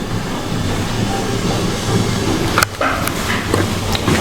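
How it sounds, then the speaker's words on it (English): A train rumbles steadily nearby with low mechanical noise and a brief hiss or clatter near the end, no voices. "And the train has just arrived."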